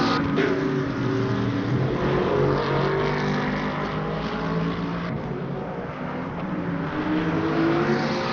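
Race cars in the sim racing game Le Mans Ultimate, including a Ford Mustang, roar continuously at high revs, with engine pitch rising and falling through shifts and the whine of several cars overlapping.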